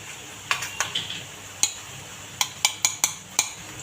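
Garlic, chili and ginger paste goes into a pan for a mutton kheema, and a spoon clinks sharply against the metal in a run of quick, close taps over a faint background hiss.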